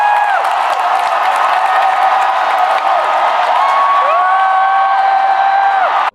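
Studio audience clapping and cheering to welcome a guest on a late-night radio show, a continuous loud wash of noise with sliding whistle-like or whooping tones rising and falling over it.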